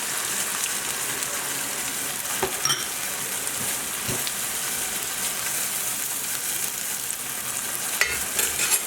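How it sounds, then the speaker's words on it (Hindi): Tomato paste sizzles and fries in a pan with semi-browned onions, a steady crackling hiss with occasional stirring scrapes and clinks, close and continuous without talking. "अब हम इसमें टमाटर का पेस्ट ऐड करेंगे।"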